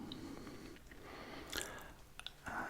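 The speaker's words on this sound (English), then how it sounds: "I'm going to have a bit of Australian PK chewing gum" Licorice and mint flavoured Australian PK chewing gum being chewed close up in a quiet setting, soft wet mastication with small squishy clicks and bursts repeating over a few seconds, no talking.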